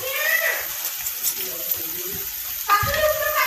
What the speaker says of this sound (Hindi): अल्प टिके पानी दे दिबा सितरे